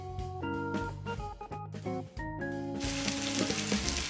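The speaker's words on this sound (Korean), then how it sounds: "프라이팬에 올리브 오일 2테이블스푼과 버터 10g을 넣고 양파를 볶아줍니다." Onions fry in olive oil and butter in a frying pan, a soft sizzle that grows into a fuller hiss toward the end, largely masked by a tonal melodic background.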